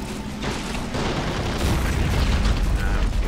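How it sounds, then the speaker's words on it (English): A Panzer III tank approaches in the WWII strategy game Men of War: Assault Squad 2, a heavy rumbling engine and track clatter that grows steadily louder and closer, with distant booms mixed in. "Scouts report enemy tank defending positions ahead. We must eliminate. Oh, I see the tank coming."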